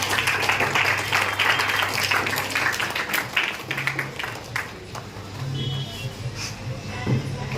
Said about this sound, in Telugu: అందరూ చప్పట్లతోనే